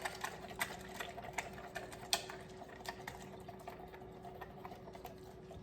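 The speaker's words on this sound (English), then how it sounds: "And I just whisk it up." Eggs for a breakfast omelet are whisked in a container, a fast run of light clicking taps against the sides with an even, continuous rhythm, close and moderately loud, with no talking.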